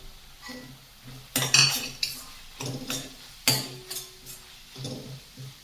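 A spatula scraping and clinking against a pan while masala spices roast, a few sharp metallic knocks and scrapes in an irregular rhythm, fairly close and otherwise quiet.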